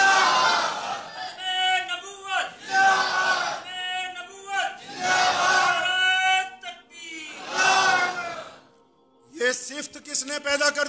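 A large crowd at a Sunday religious gathering roars back in loud, repeated bursts of chanting answering a cleric's Naara-e-Takbeer call, several swelling waves of voices with brief pauses between them.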